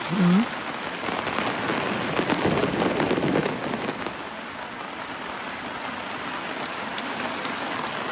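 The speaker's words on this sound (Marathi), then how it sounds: "पाऊस अगदी जोरात येतोय." Heavy rain pours down in a dense, constant hiss with a brief low sound at the start, loudest early and easing slightly later, falling near a shepherd's sheep camp.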